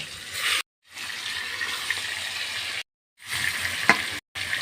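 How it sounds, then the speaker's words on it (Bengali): Carp pieces fry in hot mustard oil in a kadai, a continuous hissing sizzle close by, cut by brief silent gaps, with one sharp tick of a utensil. "তেল গরম হয়েছে এখন আমি মাছ দিয়ে এপিট ওপিট করে"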